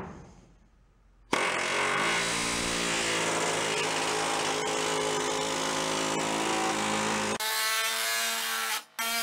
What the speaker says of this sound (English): I'm going to go grab the flange tool and we'll try to put a step in here